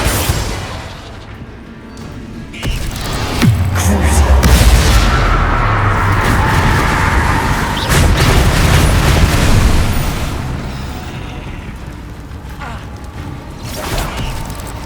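Bombarda spell explosions in Hogwarts Legacy boom heavily during combat, loud deep blasts swelling and fading over a rumbling battle mix, with occasional sharper hits.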